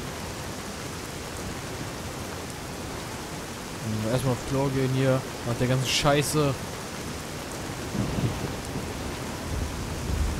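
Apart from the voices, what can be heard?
rain and thunderstorm in the video game Fallout: New Vegas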